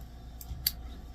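Scissors snip through the glued joint of a mesh ribbon on a snowman wreath, one short sharp cut standing out near the end after a couple of faint clicks, quiet and close with no talking.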